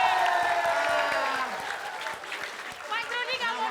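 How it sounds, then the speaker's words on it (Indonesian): Audience applause at an Indonesian comedy show, a dense wash of clapping with some crowd noise and music tones, steady and fairly loud before easing slightly, with voices mixed in. "kita berikan tepuk tangan untuk kelompok gol"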